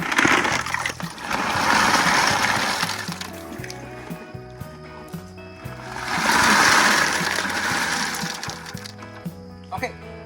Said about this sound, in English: I'm gonna go ahead and put a second bag of lava rock in there, so I've got to rinse this out